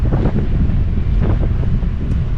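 A strong headwind buffets a cyclist riding along a beachfront boulevard, producing a continuous loud, low rumbling gust against the microphone, steady throughout with no speech.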